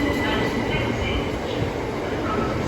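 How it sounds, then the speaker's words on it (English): A twelve-coach Southeastern Class 375 electric unit runs through Ashford International station, making a loud, steady rumble of wheels and rolling stock close by, with a station announcement voice underneath. "1702 Southeastern service from Ramsgate to London Charing Cross. This train has 12 coaches."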